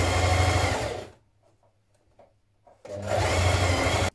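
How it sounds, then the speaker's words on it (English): A sewing machine stitches collar pieces together with a 1 cm seam, running loud and close for about a second, pausing through a near-silent stretch with faint handling clicks, then starting up again for a second steady burst. "Let's go ahead and sew our collar pieces together now."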